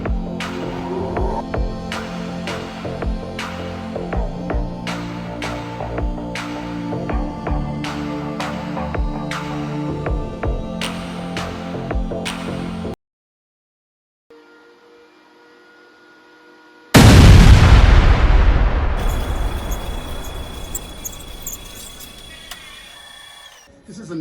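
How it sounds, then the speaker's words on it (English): Thickness planer running lumber strips in a woodshop, with a loud broadband motor-and-cutter roar that bursts in after a pause and gradually winds down; earlier stretches carry rhythmic mechanical knocking. "I'll run these through the thickness planer for the final time"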